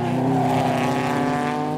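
A Ford GT40 race car roars loudly and steadily at close range during a historic endurance race at Estoril, its engine note sustained throughout with no talk.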